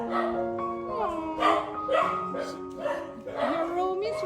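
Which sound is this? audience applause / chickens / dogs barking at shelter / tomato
dogs barking at shelter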